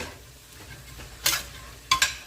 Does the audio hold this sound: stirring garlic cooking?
yes